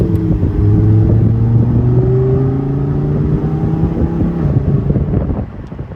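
Lamborghini Huracan Performante Spyder engine idling and pulling at low revs in sport mode, a deep steady rumble with rising harmonic tones, heard loud from inside the open-top car with some wind buffeting.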